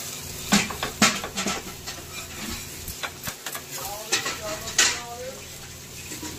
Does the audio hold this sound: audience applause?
no